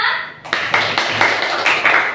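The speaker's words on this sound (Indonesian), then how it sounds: "Nah, tepuk tangan dulu untuk semuanya." A classroom group claps hands together in a quick, rhythmic burst of sharp, near claps after a brief voice, the pattern repeating in even pulses.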